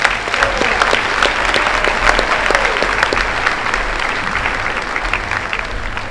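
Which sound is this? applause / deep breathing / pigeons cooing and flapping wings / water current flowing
applause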